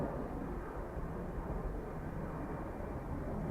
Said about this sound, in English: Ryanair from Madrid on approach.